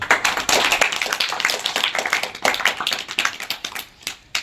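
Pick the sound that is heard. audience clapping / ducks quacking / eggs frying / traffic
audience clapping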